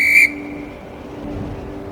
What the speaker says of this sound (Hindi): ऊपर बादलों में रेनी सबके लिए सीटी बजा रहा था कि एक साथ इकट्ठे हो जाएं।